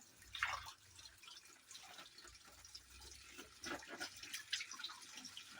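Dirty pond water draining out of a net as Daphnia are rinsed, a soft trickle of drips and splashes, faint and close, with no talking.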